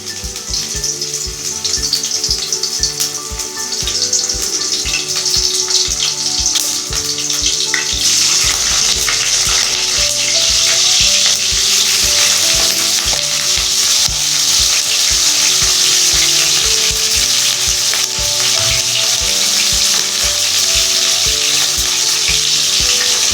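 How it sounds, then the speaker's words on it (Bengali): Cauliflower pieces fry slowly in a pan, a loud continuous sizzle and crackle that stays close and steady throughout with some stirring and no voices. "এবার আমি ফুলকপিগুলোকে আস্তে আস্তে ভেজে নেব"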